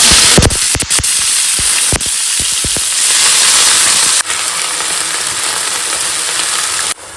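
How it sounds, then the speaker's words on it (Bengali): A loud, steady sizzling hiss of leafy greens frying in hot oil, broken by a few sharp crackles and spatters near the start. "এখানে শাক ভাজা চলছে"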